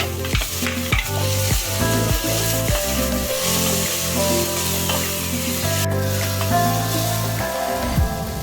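Ginger garlic paste and capsicum fry in a hot pan for mushroom masala, a steady close sizzle punctuated by repeated scraping and stirring knocks of a spatula, with no talking.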